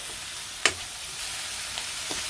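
Meat being stirred with onion paste and ginger-garlic paste in a hot pan gives a steady close sizzle, with one sharp scrape or clack of the spoon and a couple of fainter taps later.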